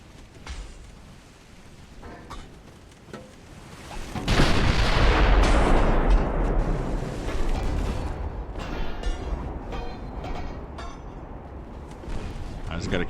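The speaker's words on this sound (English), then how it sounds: "Not too worried about him dinging me with all his 6-inch shells" Warship naval guns fire in the naval battle game Ultimate Admiral: Dreadnoughts, soft booms early, then a loud rumbling broadside barrage that rolls on and slowly fades under a distant din.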